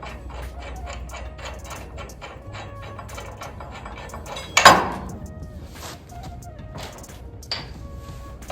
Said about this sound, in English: So if I take the brackets off,